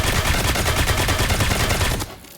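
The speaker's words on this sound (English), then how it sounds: "And then you shoot him like this, right?" Rapid automatic gunfire from the survival shooter Dysterra crackles in loud, dense bursts for about two seconds, then cuts off abruptly into quiet game ambience.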